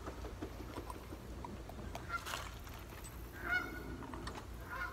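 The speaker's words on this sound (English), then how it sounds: "Darn geese, leaving the cove." Geese honking as they fly off from a cove, several calls sounding at a moderate distance over steady outdoor background noise, with a louder honk cluster partway through.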